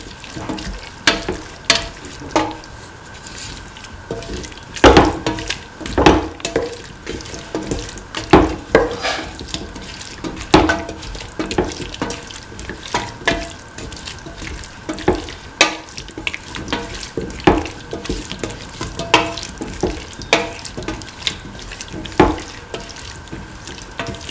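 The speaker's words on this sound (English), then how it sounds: "Thoroughly saute and mix." Potatoes, chickpeas and rice in coconut milk being sautéed and stirred in a pan, giving a steady low sizzle broken by repeated scraping and clattering stirs, close by with no talk.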